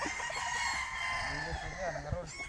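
A rooster or chicken on a rooster farm with fishponds gives a few short calls close by, over steady outdoor background noise.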